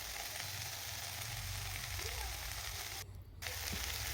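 Leafy greens (shak) frying in a wok with oil, garlic and dried chilli, a steady close sizzle filling the whole clip with one brief dip in the hiss near the end.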